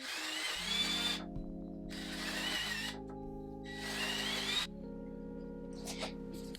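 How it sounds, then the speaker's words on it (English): A power drill whirs in three bursts as it bores into wood, steady high-pitched whine with brief pauses between holes, close and loud. "So I'm going to go through, drill the holes in these."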